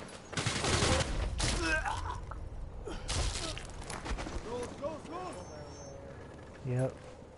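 Gunfire in Sniper Elite 3 comes as a few loud cracking shots with sharp bursts, mixed with game sounds and people talking over it.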